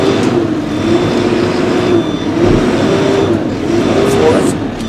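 Engine of a JCB machine with outriggers, revving up and dropping back repeatedly as it shifts up through the gears, a loud close diesel drone with rising and falling pitch.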